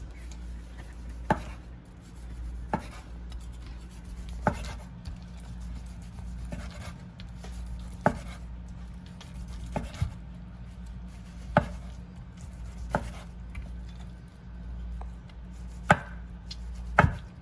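A knife cuts oven-cooked brisket into slices, giving about a dozen sharp, close chops on a board at a loose, unhurried pace over a low background hum.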